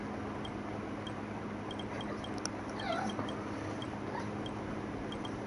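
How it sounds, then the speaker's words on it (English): A pet dog brought indoors gives soft whimpers and a few short yips. The sounds are faint and sparse over a low background hum, with the clearest cries in the middle. "My dad just brought my mom's dog in here."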